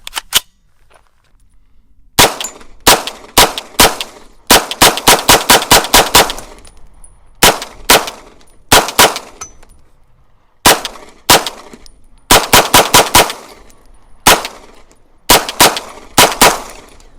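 A UTAS UT9M 9mm pistol-caliber carbine fed from an ETS magazine fires in quick bursts of sharp, loud cracks, several groups of rapid shots separated by short pauses, with no talking.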